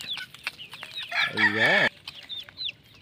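Nearby hens cluck and chatter at feeding time, and a rooster lets out a short crow midway. A voice speaks briefly.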